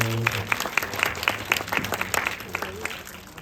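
Audience applause at a live film-actress interview event: a dense burst of clapping from a crowd, with a person talking over it.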